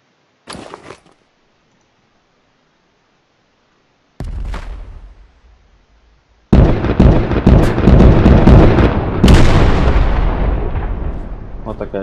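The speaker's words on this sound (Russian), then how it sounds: "потом она центральная взрывается. И каждый взрыв наносит урон." Landmine explosions in an Unreal Engine 4 game: a sharp pop, then a deep boom, then a long, loud, rumbling chain of blasts with a second burst, sustained and close.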